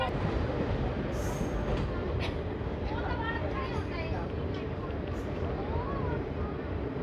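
Delhi Fazilka Intercity Express (14507) train running, a steady loud rumble of wheels and carriage noise throughout with faint squeals, with speech in the background.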